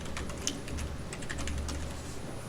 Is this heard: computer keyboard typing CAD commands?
yes